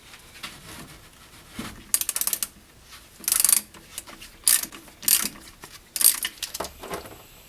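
Ratchet clicking while loosening the power steering drain bolt on a BMW E34, several short bursts of close metallic ratcheting separated by pauses.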